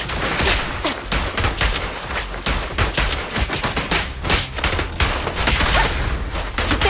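Rapid, dense video game gunfire from Zenless Zone Zero, a sustained barrage of close, loud shots with heavy low thumps running almost continuously throughout.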